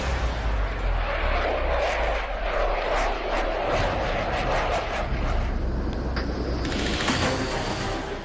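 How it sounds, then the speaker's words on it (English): Dassault Rafale fighter jet with twin jet engines, a loud continuous roaring rush with crackling bursts and a rising whine near the end, heard close. "The Rafale is a beast of a jet, powered by twin jet engines that make it one of the most agile aircraft in the air."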